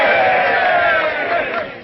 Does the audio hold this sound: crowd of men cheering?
yes